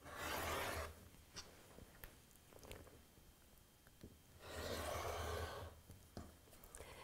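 Rotary cutter slicing through a quilt's temporary binding, with two loud sustained scraping, rasping passes, one at the start and one near the end, and quiet handling noises between.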